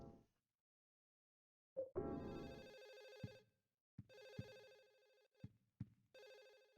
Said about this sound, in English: I love that they're going to drive us crazy with a phone ringing constantly.